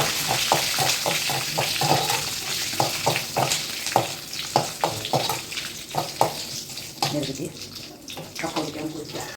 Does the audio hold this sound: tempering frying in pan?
yes